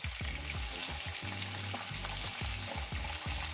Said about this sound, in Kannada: ಕ್ಯಾಪ್ಸಿಕಮ್ ಹಾಕ್ಕೊಂಡು ಎಣ್ಣೆಲೆ ಚೆನ್ನಾಗಿ ಫ್ರೈ ಮಾಡ್ಕೊಳ್ಳಿ.